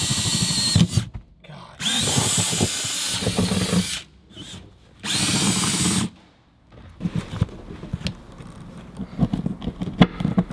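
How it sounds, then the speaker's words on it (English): A power drill whirs in several bursts, each a couple of seconds long, drilling harness eye bolt holes in a Honda Civic EG, separated by pauses with clanks and handling noises, close up. "then we'll drill the holes after we take the seat back out"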